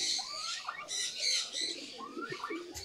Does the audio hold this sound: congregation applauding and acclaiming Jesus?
no